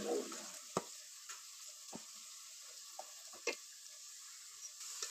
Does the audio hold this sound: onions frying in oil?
yes